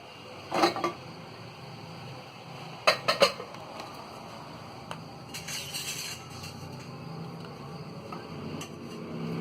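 Pressure cooker holding cooked mutton and lentils being opened, with a few sharp metallic clanks and creaks of the lid and pot early on, then quieter handling and faint rustling.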